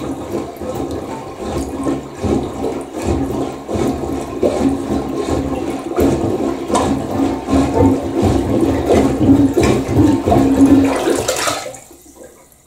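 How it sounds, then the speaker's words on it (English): Gallons of water poured down a clogged toilet make a loud, continuous rushing flush that churns for about eleven seconds before cutting off abruptly into near silence, with no voices. "We just push down a couple of gallons of water."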